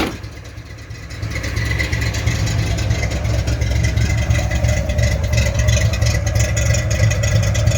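A 1983 Ford Mustang GT V8 idles on its own after catching, settling into a steady, close, low rumble with a slight lope that holds to the end.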